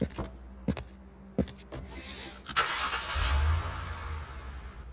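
A car engine starts up in a paramedic driving game after a few sharp clicks and thumps, turning over and settling into a low rumbling idle near the end.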